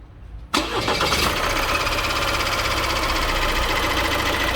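An Opel Astra K engine cranks and catches at once, then runs loud and rough with a steady metallic timing chain rattle throughout, close by.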